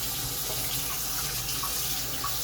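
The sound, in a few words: tap water running, rinsing something down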